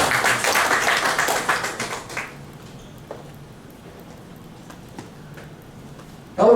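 A church congregation bursts into dense, loud clapping that fades quickly after about two seconds. A quiet, roomy hush follows, with only a few faint knocks before a sudden louder noise at the end.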